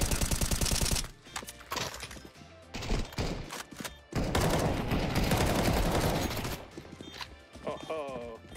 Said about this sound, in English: I think I shot the gun in the air here.